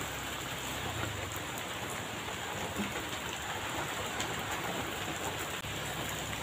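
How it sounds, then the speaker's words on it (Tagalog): Steady light rain patters on surfaces all around, a soft continuous hiss with scattered drops and no voices. "Hinay ng ulan"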